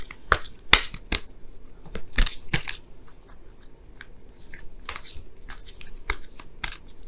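Oracle cards shuffled and pulled for a tarot love reading, with repeated crisp riffling and slapping bursts, loud and close, spaced irregularly over a soft quiet background with no talking.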